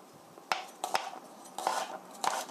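A knife slices three cloves of garlic on a cutting board, a series of crisp, close taps and chops in uneven rhythm against a quiet background.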